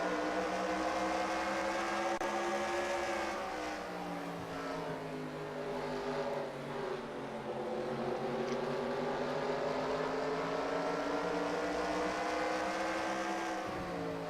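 A NASCAR stock car lapping Richmond in the NASCAR Racing 2003 video game, its engine droning steadily and loud throughout, the pitch sagging and rising as the driver comes off the throttle and back on, with no voices.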